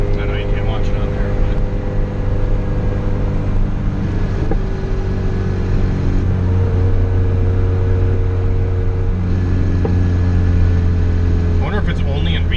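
A turbocharged Honda Civic engine drones loud and close from inside the car during a third gear pull, a dense steady roar under ongoing conversation.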